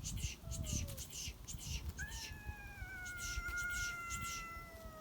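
Cats meowing repeatedly, with drawn-out rising and falling cries from more than one animal, including kittens, while people talk nearby throughout.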